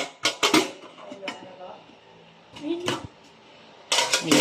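A lid set onto a pot of cooked spaghetti, with several clanking metallic knocks and clatters in short bursts, spread across the moment amid kitchen handling.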